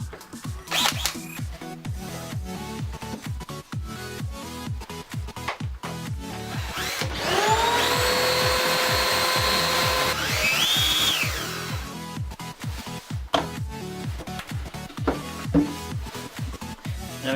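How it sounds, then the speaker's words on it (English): A power drill bores a hole through a campervan cupboard panel, a sustained whine of about three seconds in the middle, surrounded by handling clicks and knocks. "Now it's a case of drilling it out."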